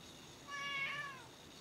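A cat meows once, a single drawn-out call rising and falling, fairly close, heard over a quiet room with open windows and faint outdoor background.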